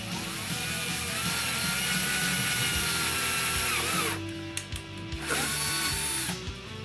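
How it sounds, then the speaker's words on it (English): A power drill whirs steadily close by while mounting rod holders on a Hobie Pro Angler kayak, then stops and starts in short bursts near the end. "So we might move on to drilling, placing some rod holders in."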